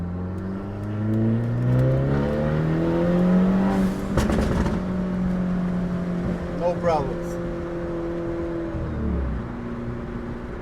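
Hyundai Elantra N in N mode accelerating hard with a not fully boosted engine, loud revs climbing steadily through the gears with shift breaks, heard from inside the car while someone speaks briefly.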